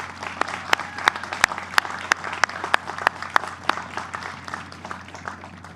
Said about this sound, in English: if we could give a big round of applause to the support staff